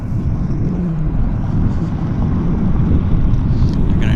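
A Boeing 787 Dreamliner bound for Incheon Airport on a wet runway at YVR gives off a loud, steady broadband roar that holds evenly from start to finish.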